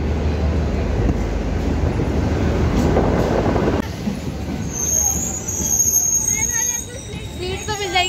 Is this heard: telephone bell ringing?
no